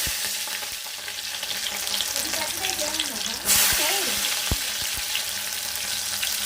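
Onion and green chilli frying in hot oil in a kadai on a stove, a steady close sizzle that swells sharply midway, with a few knocks and a voice speaking over it.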